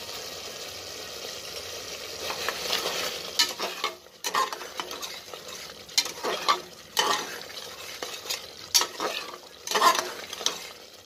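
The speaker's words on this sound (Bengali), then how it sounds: "এইটা আমি 2 মিনিট নাড়াচাড়া করে এরপরে দিয়ে দিচ্ছি এঁচোড়টা" Spices fry with a pinch of salt and sugar over a raised flame in a pan, giving a crackling sizzle that rises and falls with repeated stirring scrapes and occasional utensil knocks.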